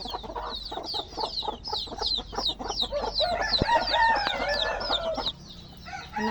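Young chickens hatched from eggs cheep in rapid, repeated high peeps close by, with busy clucking and a short crow-like call mixed in, fading to quieter chirps at the end.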